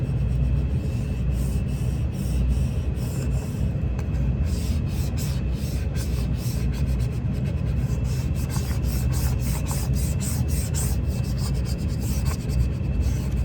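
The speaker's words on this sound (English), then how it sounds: "Use my little Cricut scraper." A Cricut scraper tool rubs vinyl down onto a tumbler in a steady, close, gritty scraping that runs without pause, with fast repeated strokes.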